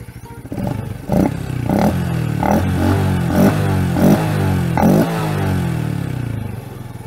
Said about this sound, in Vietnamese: Để mình nổ máy cho các bạn nghe thử nha.